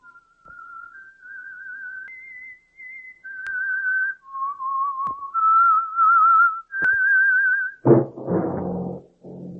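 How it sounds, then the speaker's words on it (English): A lone whistler carries a slow, eerie melody of long held notes, clear and up close, with a few faint clicks and a low thud near the end, opening a 1940s radio mystery drama. "That whistle is your signal for the Signal Oil Program, The Whistler."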